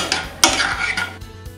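Boiled eggs coated with koli masala and salt are sautéed in a pan, a short burst of spoon scraping and turning with a faint sizzle underneath, close and fairly loud.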